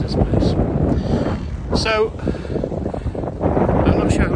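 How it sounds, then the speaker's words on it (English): Strong wind at a beach in Ireland in December buffets the microphone in loud, rushing gusts, with people talking faintly beneath it. "It's windy. Yeah, it's very windy."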